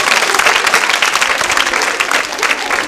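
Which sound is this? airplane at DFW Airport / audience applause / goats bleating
audience applause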